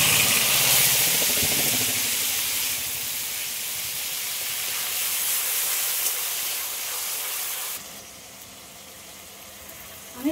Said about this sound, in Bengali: এইবারে আমি গ্রেট করে রাখা পেঁয়াজ আর টমেটো এই দুটোই দিয়ে দেবো একসাথে